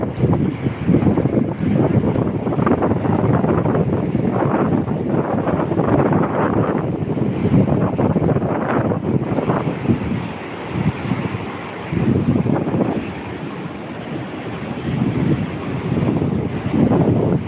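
Sea waves washing in at the seashore under strong gusting wind that buffets the microphone, a loud, rough roar with surges and lulls as the surf rolls in.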